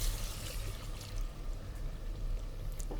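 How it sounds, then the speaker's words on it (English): Milk poured into a pot of whisked flour and butter for béchamel makes a soft, steady close-up pouring trickle for a few seconds, with no talking. "I'm adding milk."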